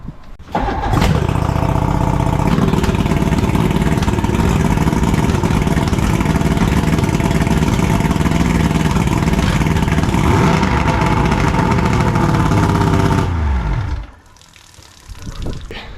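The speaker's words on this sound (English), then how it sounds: "This outboard is finally running really well." A bass boat outboard motor, freshly repaired with carburetors refitted and a new primer solenoid, fires up and runs loud and steady at idle for about thirteen seconds before cutting off abruptly, leaving a faint rumble.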